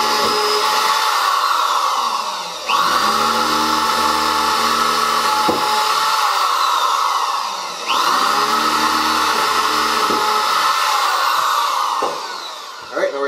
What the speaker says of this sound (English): Drill the holes, nice and even, Steven